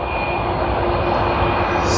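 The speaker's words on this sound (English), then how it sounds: "Sydney to Brisbane service on the A330-200." An Airbus A330-200 jet at Sydney Airport, on a Sydney to Brisbane service, gives a loud, continuous engine roar with a steady whine held throughout, rising slightly at the end.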